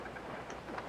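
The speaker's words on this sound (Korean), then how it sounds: "기차를 타고 가는 요시." A train rolls along in the video game Yoshi's Crafted World, giving a steady, soft mechanical rumble with faint clacking, brief and low in level with no voices.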